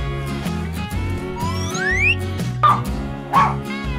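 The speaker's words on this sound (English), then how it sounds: "Dog." Two short dog barks ring out near the end over playful background music with a rising whistle.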